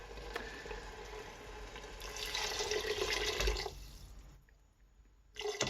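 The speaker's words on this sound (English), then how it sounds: "I'm going to add half of that stock." Stock poured into a pan of broad beans and bacon, heard as a soft splashing pour that swells for a couple of seconds, then fades and stops, fairly quiet and close.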